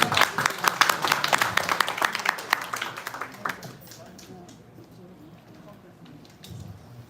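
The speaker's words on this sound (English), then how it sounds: "let's give him a round of applause" An audience gives a round of applause for a speaker at a history talk, sharp, loud claps that thin out after about three seconds into quiet room noise, with a murmur of voices near the end.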